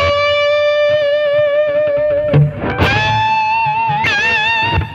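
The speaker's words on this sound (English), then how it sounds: "That's why I switched to more distortion, because the sustain was going away with less distortion with the bendings." A distorted electric guitar holds long bent notes that rise in pitch and sustain, with a few picked attacks between the bends, loud and alone with no talking.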